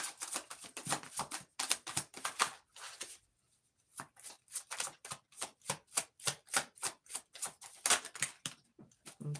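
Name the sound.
shuffling tarot cards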